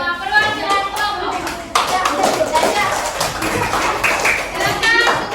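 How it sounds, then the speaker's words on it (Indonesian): Schoolchildren in an Indonesian classroom clap together after group presentations, a dense, close patter of many hands with children's voices chattering underneath. "sekarang semuanya beri tepuk tangan untuk semua perwakilan kelompok"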